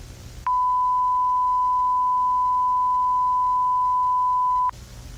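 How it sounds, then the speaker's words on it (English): A single long, steady electronic beep holds one pure tone for about four seconds, starting and stopping abruptly against quiet background noise. "I don't like the beeping"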